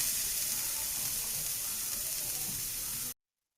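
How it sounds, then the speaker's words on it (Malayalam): Onion and chili sauté in a hot pan as a steady, even sizzle of frying that cuts off abruptly. "അപ്പോൾ നമുക്ക് ഇതൊന്ന് വഴറ്റി കൊടുക്കാം"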